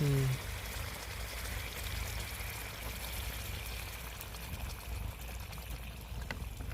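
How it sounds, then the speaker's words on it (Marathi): Water pours steadily into a pot of crab curry, a continuous rushing wash that carries on for several seconds at an even level. "पाणी टाकून घेते थोडं"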